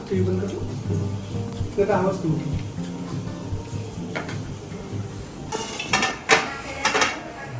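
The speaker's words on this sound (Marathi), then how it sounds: "मागच्याची जेवढी भांडी पटापट क्लीन करून घेते" Dishes and utensils clink and clatter near the mic while someone talks, with a few sharper metallic knocks late on.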